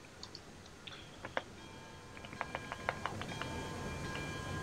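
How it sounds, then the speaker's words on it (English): A locomotive bell in the video game Railroads Online rings in a steady repeating clang, moderately loud over a constant rumbling train engine. "Let's pull the bell, tell the locals that we're here."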